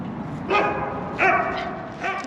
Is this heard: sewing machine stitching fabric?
no